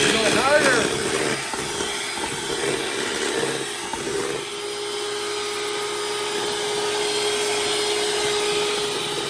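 A Black and Decker electric hand mixer whirs steadily at high speed, a loud continuous motor drone running through the whole stretch, with brief voices near the start.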